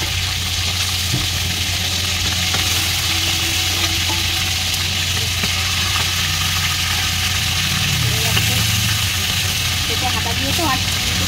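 Chicken pieces frying in hot oil give off a steady, dense sizzle throughout, with a low hum running underneath and a few faint stirring scrapes.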